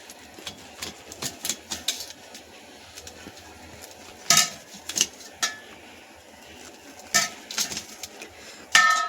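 A knife cutting cooled fenugreek methi vadi pieces, sharp scattered taps of the blade striking the board at irregular intervals, close by over a low background hum.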